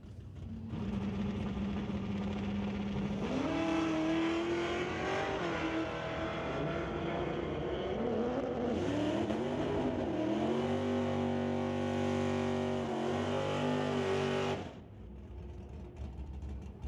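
Drag racing cars, a Chevy II against a Mustang Fox body, launch together and rev hard through rising engine pitch, loud and sustained for about fourteen seconds before cutting off.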